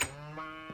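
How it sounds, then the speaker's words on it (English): Orange cows in a Yogscast modded game give a short, low mooing call. It is brief and fairly clear, with a faint second low sound near the end. "So now I have a bunch of orange cows."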